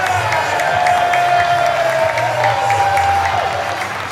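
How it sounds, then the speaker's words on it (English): A crowd applauds and cheers in a large space, a dense wash of clapping heard under an announcer's talk. "getting a round of applause here"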